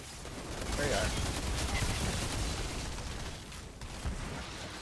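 Gunfire from an explosive weapon rattles through Outriders gameplay, with dense bursts of shots and blasts over a few seconds, loud and busy, peaking in the middle with a final pop near the end.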